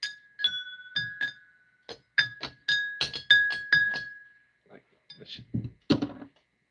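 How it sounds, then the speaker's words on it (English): Glass clinks and chimes in a series of bright, ringing taps, some sustained tones ringing out between irregular strikes, close and clear, with a few duller knocks toward the end. "I love glass. The sound of glass, by the way."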